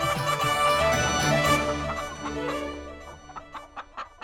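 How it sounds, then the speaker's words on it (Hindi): A hen clucks and squawks close by over a busy music-like background, the calls tapering into a few short, separate clucks at the end. "काजू देखते ही वासुदेव की मुर्गी भागते हुए आएगी"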